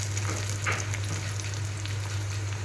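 Coriander and curry leaves frying in a pan for drumstick sambar, a steady close crackling sizzle over a constant low hum.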